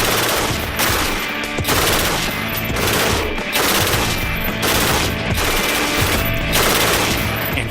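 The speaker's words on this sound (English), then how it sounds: "the Mark 48 is as close to a dream machine gun as they're gonna get" A Mark 48 machine gun fires long, loud, sustained bursts with a rapid steady rhythm, separated by brief regular pauses, close and dominant throughout.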